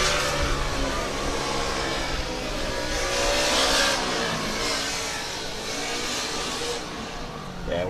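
A Formula Student race car at FSS 2024 comes closer during the endurance run, its engine a steady, loud drone that swells and shifts pitch slightly as it nears, with no talk over it.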